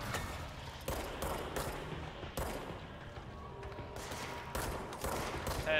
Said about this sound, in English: that's definitely a sniper shot